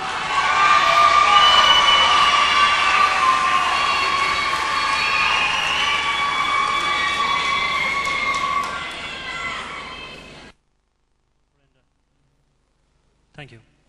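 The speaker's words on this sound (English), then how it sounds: "So give him a big round of applause, please." An audience at the Scór na nÓg All Ireland Final 2001 breaks into loud, sustained applause and cheering that fills the hall for about ten seconds, then cuts off abruptly into silence.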